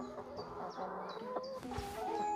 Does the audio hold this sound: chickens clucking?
yes